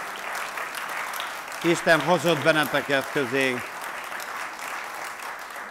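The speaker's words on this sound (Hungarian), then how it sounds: "tapsoljátok meg őket" A church audience applauds newcomers and guests with a steady wash of clapping, while someone speaks a welcome over the top in the middle of the applause.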